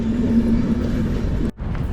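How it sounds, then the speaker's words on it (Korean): A Czech train passing close by, with a loud, steady rumble and a hum that holds, then a brief dip near the end before the roar returns. "체코 기차 체코 기차"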